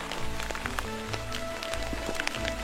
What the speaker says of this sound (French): Aïe, aïe, c'est de la grêle.